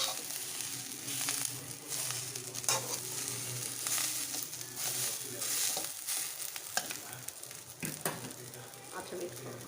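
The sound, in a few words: green chillies sautéing in plenty of oil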